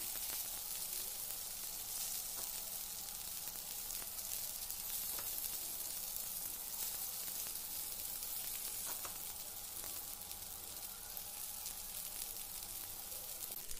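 Okra fries in oil on a hot tawa with a constant, hissing sizzle. The sound is even and close, without talking.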